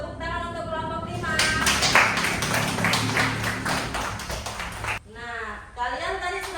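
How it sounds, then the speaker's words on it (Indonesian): Classroom applause for a student group, a burst of many hands clapping for several seconds between a teacher's spoken words. "Tepuk tangan untuk kelompok 5."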